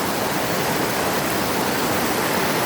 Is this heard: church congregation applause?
no